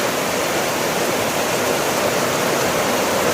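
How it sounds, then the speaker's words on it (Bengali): Heavy rain pours steadily during an afternoon storm, a dense, continuous hiss close by with no pauses and no voices. "এত পরিমাণে বৃষ্টি আছে"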